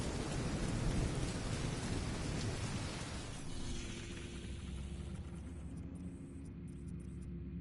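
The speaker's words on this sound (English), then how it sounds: "Nice rainy weather." Heavy rain and rolling thunder from The Division 2 video game, a loud broadband downpour that eases after a few seconds into a softer steady patter with a low rumble beneath.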